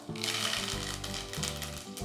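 Mustard seeds, cumin and curry leaves crackle and sizzle in hot oil in a kadhai for a tempering. A steady bright hiss carries throughout, with a low tonal hum running beneath it.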